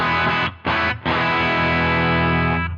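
Distorted electric guitar through the Peach amp model on a Line 6 Stadium XL: two quick chopped stabs near the start, then a long sustained chord ringing out and fading at the very end.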